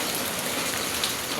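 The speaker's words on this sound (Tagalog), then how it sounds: "Ulan." Steady rain falls in a dense, even hiss with no breaks, heard close and fairly loud for a short stretch with no voices.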